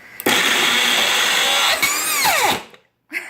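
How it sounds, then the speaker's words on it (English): A hand-me-down Magic Bullet blender whirs loudly while chopping salsa vegetables, a steady high motor roar for about two seconds that dips briefly, then winds down and stops, followed by a short clunk. "this is a hand-me-down magic bullet blender that my sister gave me, and it's only my 2nd time using it"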